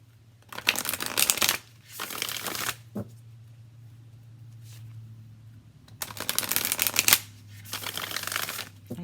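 Modern Love Tarot cards shuffled in bursts of crisp riffling, several bouts separated by short pauses, close and moderately loud over a steady low hum.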